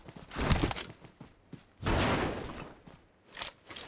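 A door opens in the mobile battle-royale game PUBG Mobile, heard as a few loud, close thumping bursts with short gaps between them.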